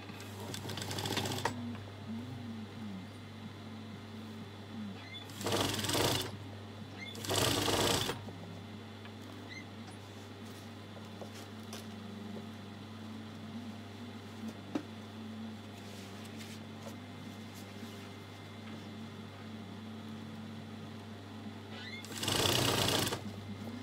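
An electric sewing machine stitches an Igbo blouse in short bursts of rapid whirring, near and clear, separated by long pauses filled with a steady low electrical hum.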